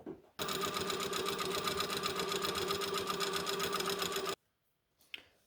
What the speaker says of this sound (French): j'ai plus qu'à piquer les pattes de boutonnage, l'ourlet et la patte de boutonnage de l'autre côté d'un seul tenant